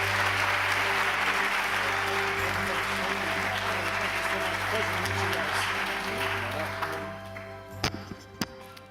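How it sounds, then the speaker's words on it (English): An audience gives a sustained round of applause for a speaker being introduced. The dense clapping holds steady, then thins out near the end into a few last scattered claps. "Let's give a round of applause for Peter Winninger."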